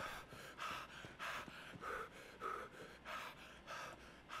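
Heavy rhythmic breathing from a truck glitch in the survival game Just Survive, about eight loud gasping breaths in steady succession with no talk over them.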